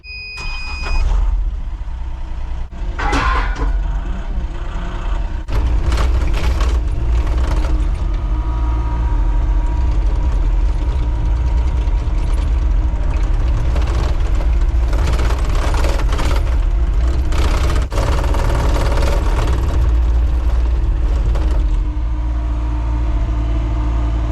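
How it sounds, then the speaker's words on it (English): A tractor engine runs steadily throughout, hooked up to move a trailer while prepping a back yard for grass, with mechanical clanks and rattles over the continuous mid-pitched drone and no talking. "We're gonna use this tractor, hook it up to that trailer."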